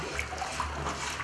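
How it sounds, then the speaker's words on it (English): Water churns and gurgles steadily in a blocked household sink drain as a plunger works to clear it, a close, continuous sloshing with small surges throughout. "replace it with the plunger. That slows the water going down, block it up"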